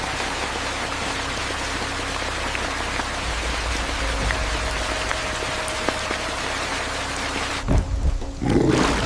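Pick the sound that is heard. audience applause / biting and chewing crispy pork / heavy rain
heavy rain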